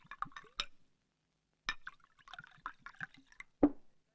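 Soda poured into a drink to dilute it, heard close and quiet as bursts of liquid splashing and fizzing separated by silent gaps, ending in one sharper splash.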